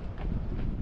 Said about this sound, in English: It's like super windy.